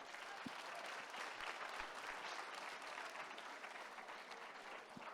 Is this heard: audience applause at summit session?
yes